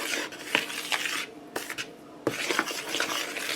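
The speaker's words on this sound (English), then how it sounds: "we're going to mix these dry ingredients together" Dry baking ingredients for angel biscuits are stirred in a bowl, a close scraping and rubbing with clinks of utensil against the bowl in uneven strokes and short pauses.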